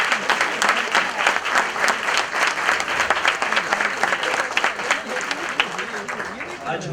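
Loud, sustained clapping from an audience at a Women's Day prize draw, many hands beating steadily for several seconds, with some voices faintly audible beneath.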